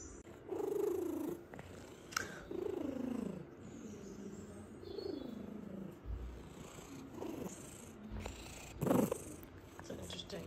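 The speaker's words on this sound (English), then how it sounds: "It's an interesting purr you got there." A cat purrs close by in slow, rhythmic waves, each breath rising and falling in a soft rumbling pulse, with a few brief quiet noises between.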